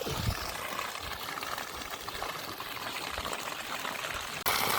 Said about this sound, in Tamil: தண்ணி அடியே குதித்து போய்கிட்டு இருக்கு ஃபுல்லாக